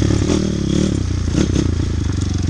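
A small 160 YX motorcycle ridden along a dirt path, its engine droning loudly and close with rough, pulsing harmonics. Clattering and scraping from the track run beneath the engine.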